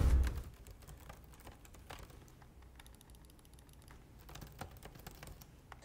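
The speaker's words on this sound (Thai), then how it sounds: "เดี๋ยวผมจะลองพิมพ์แล้วก็คลิกเมาส์ให้ดูนะครับ" Typing on a keyboard and clicking a mouse near a JBL Quantum Stream microphone: irregular, fairly close clicks and key taps at moderate level, with a louder thump at the start and no talking.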